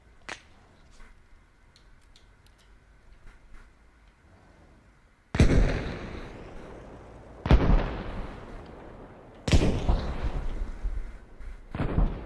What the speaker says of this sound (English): the military has requested a motherfucking bombardment